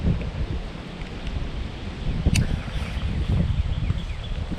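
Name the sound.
wind blowing outdoors by trees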